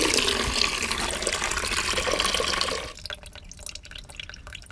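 Water gushes hard from the rubber drain valve of a caravan toilet cassette, then cuts off abruptly, leaving faint drips and trickles.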